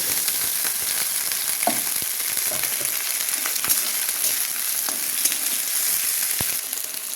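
Spring onion stalks frying with small fish in a pan give a continuous loud sizzle, broken by repeated scraping clicks of stirring; no one speaks.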